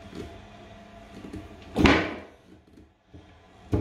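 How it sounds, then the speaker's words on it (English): Handleless cupboard doors in an empty, newly inventoried home are pulled open, giving a few soft knocks and one louder bang partway through, followed by a second sharp clack near the end, in a quiet room. "If I just open the doors"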